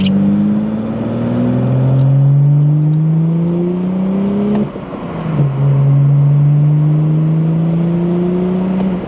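A BMW 435i engine revs up twice, pitch climbing steadily each time with a brief drop between, loud and close with no talking.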